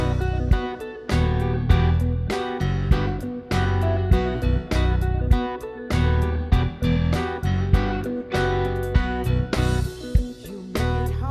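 A bass guitar plays inside a full rock mix, locking in with punchy drums and other instruments in a steady, dense groove throughout.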